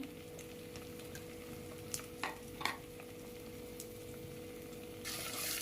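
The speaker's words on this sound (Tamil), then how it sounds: "அந்த பூண்டையும் போட்டு பூண்டு கொஞ்சம் நல்லா எண்ணெயிலே நல்லா வேகட்டும்." Garlic cloves fry gently in oil with a faint, steady sizzle, a few soft clinks and scrapes of stirring, and a brief rush of louder hiss near the end.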